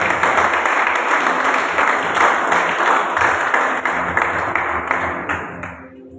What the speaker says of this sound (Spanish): denle un fuerte aplauso a Dios y al Espíritu Santo en esta noche